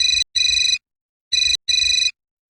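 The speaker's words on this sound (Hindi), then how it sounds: "एकटा कॉलर लाइन पर आबि चुकल छै" An electronic telephone ringtone signals an incoming caller to a comedy call-in show, two pairs of bright, buzzy warbling rings separated by silence, clear and close.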